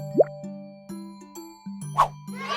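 Four jars of jam dropped into a shopping cart in a cartoon setting, heard as bright plopping hits with a light tinkle, spaced over a sustained musical tone, close and clean.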